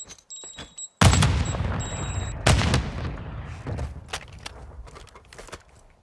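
Gunfire in Call of Duty: Modern Warfare II: loud close shots and a heavy blast with booming tails, followed by scattered fainter shots and footsteps as the action dies down.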